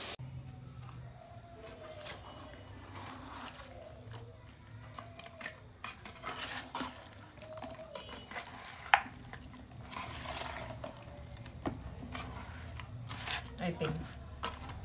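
Ginger garlic paste fries quietly in a pan with a soft sizzle and occasional scraping stirs of a ladle, while a voice talks over the cooking at close range.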